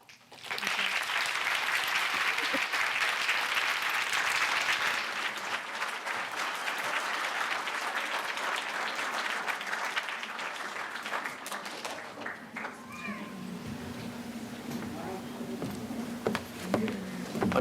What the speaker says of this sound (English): you're going to be all clapped out by the end of this afternoon